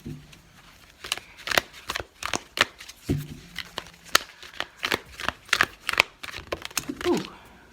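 Oracle cards being shuffled and drawn, giving a run of quick, crisp riffling snaps and flicks in irregular bursts, close and fairly loud, with no voice.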